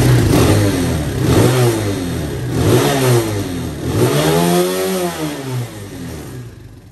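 An ATV engine with no rev limiter revs repeatedly, rising and falling in pitch in several surges before dropping back near the end, loud and close with no talking.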